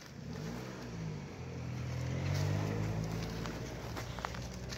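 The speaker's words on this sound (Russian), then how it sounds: "Отходи, машина едет" A car passes close by on a road, its engine rumble swelling to a peak midway and then easing off, with light footsteps and outdoor noise around it.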